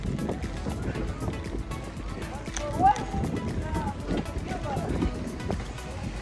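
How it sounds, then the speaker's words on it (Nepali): Wind buffets the microphone outdoors along a quiet path, a constant low rumbling roar with a brief louder gust, under people talking. "हावा चलेको क्या लास्टै"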